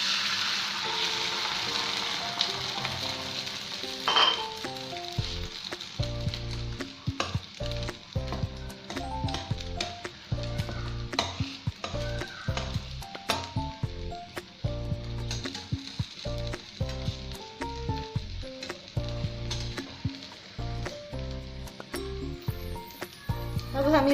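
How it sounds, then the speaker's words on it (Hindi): Small amounts of beaten egg batter for a Japanese rolled omelette sizzle in a pan over low heat, giving a steady close crackle broken by rhythmic spatula taps and scrapes with no talking. "स्लो आंच पे थोड़ा सा बैटर डालेंगे।"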